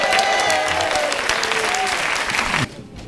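A conference crowd applauds loudly and steadily for a woman invited on stage, dense clapping with a voice talking over it, cutting off abruptly near the end.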